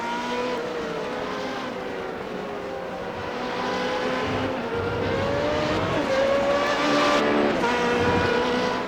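Race cars in a racing video game lap Silverstone, their engines whining steadily with rising and falling pitch as they accelerate and shift, layered into a continuous loud drone with no talking over it.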